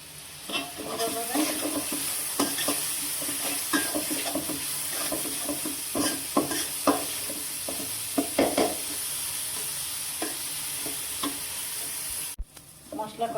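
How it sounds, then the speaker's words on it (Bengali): Spice paste with small shrimp, turmeric and salt stir-fried in a pan for a Bengali yardlong bean dish: continuous sizzling with repeated scraping and clinking of a spatula against the pan, close and steady, with a brief pause near the end. "একটু কষাই নিই।"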